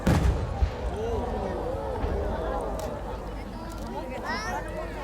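Firework shell bursts from a Japanese competition display by Nomura Fireworks of Ibaraki, a rising-tail 'Ripple of Light' piece: a strong boom at the start, then rising whistling tails and crackling bursts over steady crowd murmur and talk.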